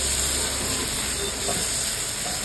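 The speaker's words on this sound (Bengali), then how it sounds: "দিয়ে এটাকে আমি ভালো করে কষিয়ে দিচ্ছি" Spices with Kashmiri red chilli and a little salt frying in a pan, a dense, continuous hiss and sizzle filling the clip evenly without pauses or voices.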